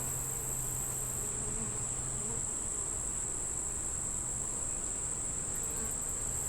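Honey bees hum around an open hive frame of brood, honey and nectar, a faint, continuous buzzing swarm with a few louder wingbeats passing close.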